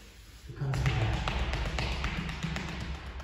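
Palms, backs of hands and knuckles tapping on the back during a home yoga session, a steady run of soft rapid pats with low thumps, close and moderately loud, with no talking.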